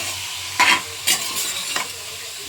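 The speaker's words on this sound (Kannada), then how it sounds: "ಚೆನ್ನಾಗಿ ಫ್ರೈ ಆಗಬೇಕು" Ingredients for chicken sambar fry in a wide pan, giving a close, steady sizzle with a few loud, brief stirring scrapes, and no one speaking.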